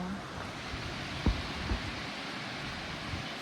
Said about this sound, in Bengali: এই যে সেই বৃষ্টি